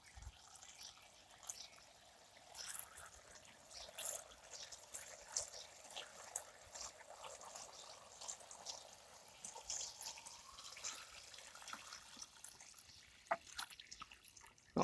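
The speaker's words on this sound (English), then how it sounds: "Now I'm filling it up with water." Water runs into a lidded container packed with leaves and weighted with a stone on an allotment plot, a quiet, steady trickle with faint drips and splashes and no talking.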